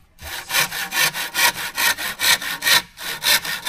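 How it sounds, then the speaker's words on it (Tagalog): Hand saw cutting through wood while building a hanging tree house ladder, with about a dozen steady, rhythmic back-and-forth rasping strokes, loud and close, briefly pausing once before resuming. "Kumuha lang pala si Dudoy ng lagari."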